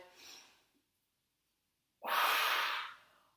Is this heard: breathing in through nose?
yes